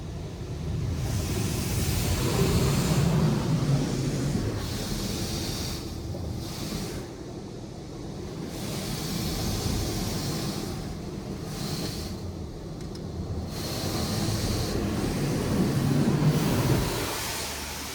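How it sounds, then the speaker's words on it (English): High-pressure rinse inside a LaserWash 360 touch-free automatic car wash: a continuous loud rushing spray of water, swelling and fading as the jets sweep past the car, with no talk. "It's rinsing. High pressure rinse."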